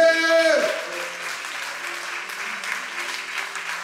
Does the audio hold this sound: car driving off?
no